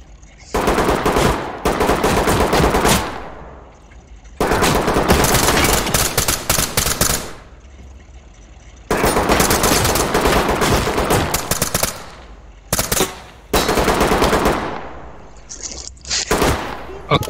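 Sustained bursts of automatic gunfire in the tactical shooter game Ready or Not, several long, loud, rapid-fire volleys separated by short pauses and a few brief single bursts, close and dominant.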